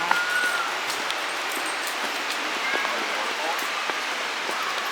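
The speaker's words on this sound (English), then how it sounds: "a river or a waterfall." Soft, continuous splashing and rushing of the waterfall at Gooseberry Falls, Minnesota, heard from a distance as a steady, moderately quiet wash of water with scattered droplet-like ticks and no talk.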